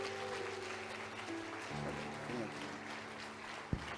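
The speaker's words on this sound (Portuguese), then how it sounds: "Uma salva de palmas para o Senhor." A church congregation applauds during a worship service, a steady wash of clapping over sustained low tones, ending with a single sharp thump.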